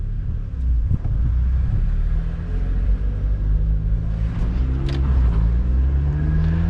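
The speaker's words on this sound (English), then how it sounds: "this is my first time driving an NB on the road" A Mazda Miata NB drives and accelerates on the road, its engine rumbling low and close, with a rising rev near the end and a few light clicks and knocks over the drone.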